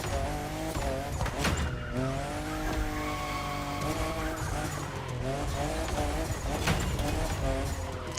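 A fifth-generation Toyota Supra drives in The Crew Motorfest, its engine revving through rising and falling pitch sweeps with tire squeal, over game music and a voice at times.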